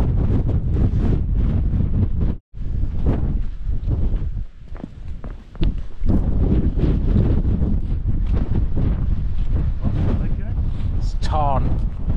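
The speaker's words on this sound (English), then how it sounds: "It's really windy" Strong wind buffets the microphone on an exposed mountain peak in the Brecon Beacons, Wales, a loud continuous roar with gusts and a brief lull, while footsteps and a person's talk come through beneath it.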